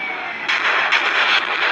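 Gunfire from the Indian Bike 3D video game rattles in rapid, continuous bursts, loud and close, with a roaring, hissy texture and no talking over it.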